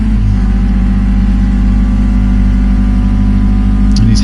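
Renault Clio Cup race car engine in Project Cars 2 at Monza, a loud, sustained high-revving drone held flat down the back straight with a slight gearchange blip near the end.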